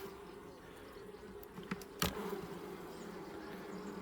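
A steady low hum of honeybees at a weak hive fills the clip, with a few brief louder buzzes passing close by against the constant drone.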